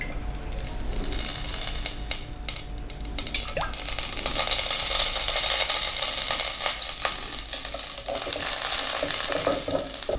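Olive oil sizzling and crackling in a pot, starting quieter with a few clinks, then swelling into a loud, steady hiss that holds to the end.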